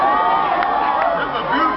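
Crowd at an outdoor political rally in Philadelphia, Pennsylvania, cheering and shouting in a loud, steady roar that fills the whole moment, with voices blending into a dense wash of noise.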